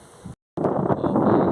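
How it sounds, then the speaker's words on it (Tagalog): Strong wind buffets a microphone with loud, rough rumbling gusts, briefly cutting out before the blustery roar returns. "Super lakas ng hangin."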